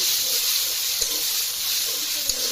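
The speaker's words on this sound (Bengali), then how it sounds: "তারপরে দিয়ে দিব বেটে রাখা পেঁয়াজ।" Ground onion paste fries in a pan while cooking taro with mustard, a bright, continuous sizzle with a couple of soft knocks from stirring, close up and with no voices.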